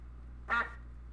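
Duck in a video game gives a single short quack, moderately loud and alone over a constant low background hum.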